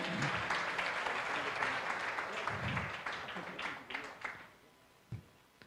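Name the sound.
applause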